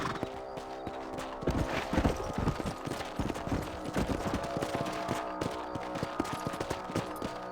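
Horse hooves clip-clop at a steady trot in the Red Dead Redemption video game while riders patrol a ranch property, with dense rhythmic hoofbeats, a faint musical hum underneath, and no talk.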